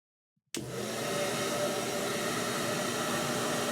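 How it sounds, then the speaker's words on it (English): A hair dryer in a video game switches on abruptly and blows with a steady, loud airy whoosh that holds constant to the end. "The hairdryer was perfect."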